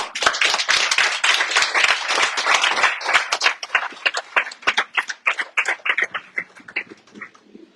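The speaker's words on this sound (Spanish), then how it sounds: "Denle un aplauso al Señor." A church congregation applauds the Lord during a service, a burst of sharp, fairly rapid hand claps that loosens and thins out toward the end, close and lively.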